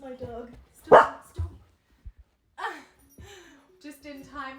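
A pet dog barks indoors during a home yoga session, giving one loud close bark followed by a few shorter yaps over several seconds, with a voice speaking at the same time.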